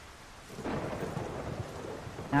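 A thunderstorm in the video game Solarpunk: a steady wash of rain with deep rolling thunder that swells and stays loud throughout, no voices.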